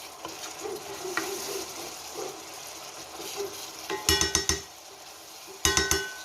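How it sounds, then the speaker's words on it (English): Masala fries and sizzles in a pan with a soft, steady crackle, then a spoon stirs it in two bursts of sharp metallic scraping and clinking against the pan. "Okay, I'm gonna let that fry a bit."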